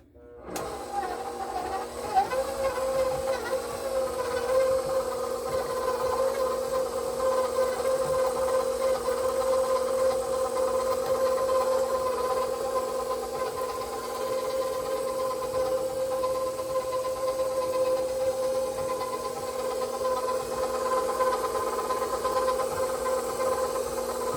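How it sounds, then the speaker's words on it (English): A Ninja mixer whips butter alone, a loud, steady motor whine with a sustained hum holding for over twenty seconds right up close. "we're going to start whipping up the butter"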